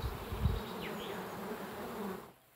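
Honey bees buzzing around beehives at an apiary, a dense steady hum of many insects with a few individual bees flying past nearby, continuous and fairly faint, fading out at the end with no voices.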